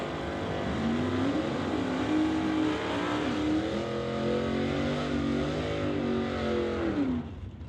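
A 1965 Chevrolet Nova makes a drag race run at Mission Raceway: a loud, continuous engine roar climbs and dips in pitch through the gears, then drops away abruptly at the end.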